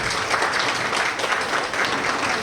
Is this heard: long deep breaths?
no